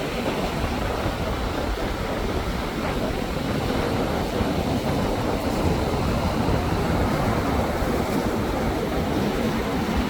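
Loud, continuous roar of churning sea surf at Karkovalam fishing village, steady and unbroken, with no clear gaps between waves, during a destructive surge that wrecked fishermen's boats.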